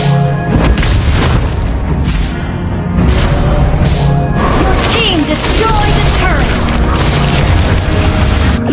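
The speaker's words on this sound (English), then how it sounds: "Your team destroyed the turret." Turret destroyed in a Mobile Legends match, a loud booming blast that rolls into a continuous dense rumble of game effects and music, with voices heard over it.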